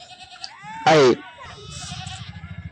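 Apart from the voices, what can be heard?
sheep and goats bleating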